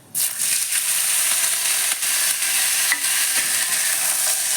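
A sudden loud sizzle as soft-boiled cauliflower stalks drop into hot oil in a wok, then steady frying with occasional stirring scrapes.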